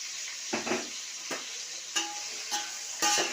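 Pieces of okra, carrot, gourd and cucumber frying in a pan for sambar: a steady faint hiss broken by a few short stirring scrapes, quiet and close, no voices.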